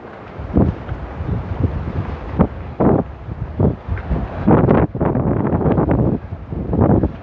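Strong wind gusting to about 58 buffets the microphone at Shilshole Marina in Seattle, in repeated roaring gusts, rising and falling with brief lulls between them.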